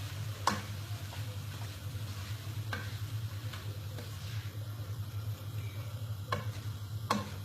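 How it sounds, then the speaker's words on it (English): Utensil stirring passata into a dish of chopped ingredients, with scattered soft scrapes and clicks against the pan over a steady low hum, close and fairly quiet. "And give it a stir."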